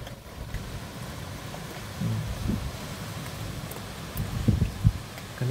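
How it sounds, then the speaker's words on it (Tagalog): Strong wind and rain before dawn around 5:21 in the morning, a steady broadband roar with occasional louder gusts and faint thumps, fairly close, with no talking. "Oh, ang lakas ng hangin. Oh, ang lakas. Saka ulan."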